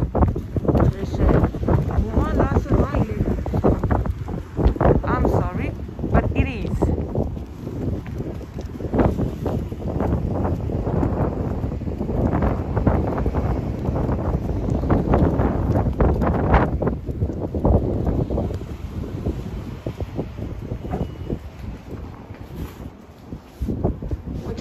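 Strong wind gusting and buffeting the microphone, a loud, rough roar that keeps surging throughout, with bits of talking in the background.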